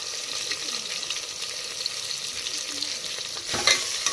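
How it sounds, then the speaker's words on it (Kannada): Green chillies, potato and onion slow fry in a pan, with a continuous hiss broken by soft stirring scrapes and a louder clatter near the end. "ಇವಾಗ ಸ್ಲೋ ಫ್ರೈ ಮಾಡ್ಕೊತೀನಿ"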